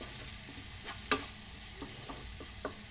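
Tomatoes sautéing in a pan with salt for an okra masala: a steady soft sizzle with occasional scrapes of a spoon stirring, one sharp clack partway through, no talking.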